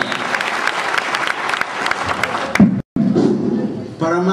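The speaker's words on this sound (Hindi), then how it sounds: "जोरदार ताली से स्वागत किया।" A crowd at a community gathering in Patna gives a loud welcoming round of applause, dense clapping for a couple of seconds before it breaks off and voices take over.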